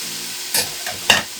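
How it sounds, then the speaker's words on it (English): Aromatics sautéing in neutral oil in a pan, a soft sizzle broken by three quick stirring scrapes, close and clear, with no talking. "While our aromatics are starting to saute, we're getting just a little bit of color on them"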